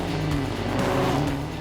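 A rare muscle car's engine growls loudly and steadily, its pitch shifting slightly as it revs, heard close and without talk.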